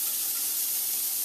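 Diced onion hits hot olive oil in a saucepan, giving a steady bright sizzle and hiss that holds evenly for a moment.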